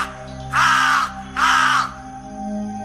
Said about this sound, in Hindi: तभी एक कौवा उनके सिर के ऊपर से चीखता हुआ गुजरा।